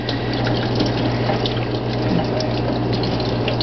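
Water from a tap runs steadily and loudly while a makeup brush is rinsed under it, a constant close splashing rush with no voices.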